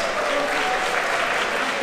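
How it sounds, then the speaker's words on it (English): Steady, dense applause from a crowd at a trading card game tournament, honouring the vendors, continuous and fairly loud throughout the short stretch. "Please give them a round of applause."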